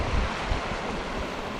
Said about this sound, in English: We got a nice breeze blowing through.